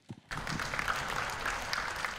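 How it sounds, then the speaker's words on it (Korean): Workshop audience applauding a presenter at a Korean college association general meeting, steady clapping that starts abruptly after a brief faint voice and continues at moderate level. "큰 박수 부탁드리겠습니다."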